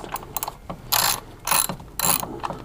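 Ratchet wrench on a 3/8-inch drive turning an E10 external Torx socket on a BMW 335i N54 engine, several quick bursts of close, crisp clicking with short pauses between strokes, no voices.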